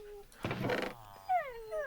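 Dogs in the survival game Minecraft let out several short high whimpers and whines in quick succession after a brief rustling burst, heard fairly close with no speech.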